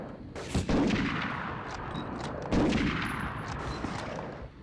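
Gunfire in the 1999 video game Medal of Honor: two loud close shots about two seconds apart, each with a long echoing tail, followed by fainter pops in the background.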